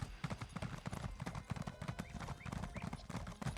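Rapid rhythmic clip-clop of horse hooves in The Elder Scrolls Online: Elsweyr, close and steady, trotting along with a faint whinny in the mix.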